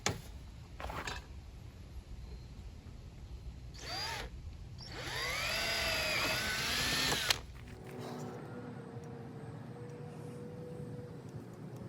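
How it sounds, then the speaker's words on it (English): A whining power drill bores holes in metal in several short bursts, the longest a sustained grinding spin of a few seconds, close by and fairly loud. "So let's drill these 3 holes."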